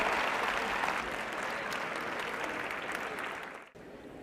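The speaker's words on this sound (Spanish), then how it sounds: "Damos el aplauso, por favor." An audience applauds during a spoken session, a continuous wash of clapping that stays fairly even for about four seconds before dropping off abruptly near the end.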